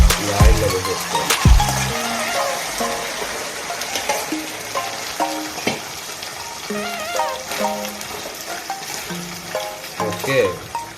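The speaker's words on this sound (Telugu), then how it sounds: "మనం ఆల్రెడీ ఉడికించి పెట్టుకున్న చికెన్ని ఈ ఆయిల్లో వేసేసుకోవాలి." Pre-cooked chicken pieces dropped into hot oil in a pan for chicken pickle, giving a steady close sizzle and frying crackle with some stirring clatter throughout.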